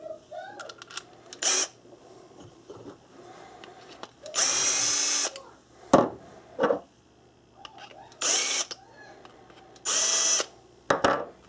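A power drill spinning rifle brass in a case trimmer whirs in several short bursts, one longer and three briefer, amid clicks and handling of cases, close by.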